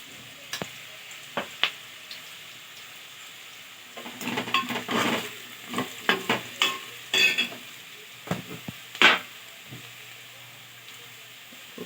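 Potatoes fry in a pan for alu kurma as they are stirred. A soft sizzle sits under close, irregular scrapes and clinks of a spoon against the pan.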